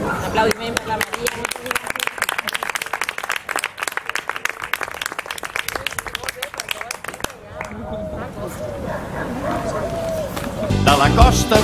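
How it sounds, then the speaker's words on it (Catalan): An outdoor stage audience in a garden claps for Maria, the author of a storybook, with strong dense applause that thins and fades near the end, followed by some murmuring and a renewed burst of sound. "Aplaudiment per la Maria"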